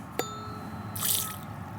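A vibrating tuning fork dipped into water gives a brief bright ring at the start, then a hissing, splashing wash of sound as it meets the water, fairly close with a soft hum beneath.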